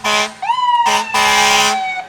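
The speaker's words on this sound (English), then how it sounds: "Here comes our ambulance" An ambulance siren sounds during a town's 350th anniversary parade in Westfield, loud and close, with wailing tones that sweep up and settle, broken by short gaps and ending in a long sustained blast.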